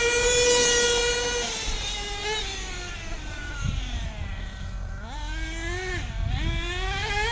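A Losi 8T RC truck's small nitro engine runs during break-in at partial throttle, giving a high buzzing whine with pitch that wavers, dips and swoops back up at close range.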